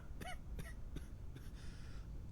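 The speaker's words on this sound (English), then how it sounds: "I don't trust coughing" Person coughing at a border checkpoint in the video game Quarantine Zone: The Last Check, four short dry coughs spaced about a second apart, faint and close over low background hum.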